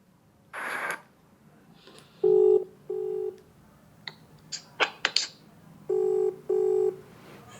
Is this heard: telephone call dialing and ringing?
yes